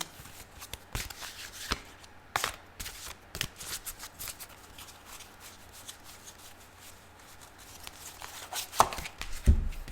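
Tarot cards being shuffled and handled at close range: repeated quick riffles and slaps of card stock with short pauses, and a few louder snaps near the end.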